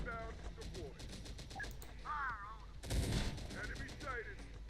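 Machine-gun and rifle fire in a military video game battle, repeated rapid bursts with a heavy volley near the middle, heard faintly under radio-style voices giving orders.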